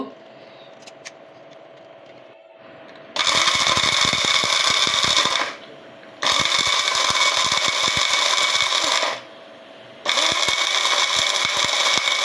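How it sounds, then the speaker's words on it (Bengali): An electric grinder pulverizes roasted whole garam masala spices, running in three loud sustained whirring bursts separated by short pauses, with a faint rattle of spices inside. "এগুলি আমি এখন গ্রাইন্ডারে দিয়ে গুঁড়া করে নিব"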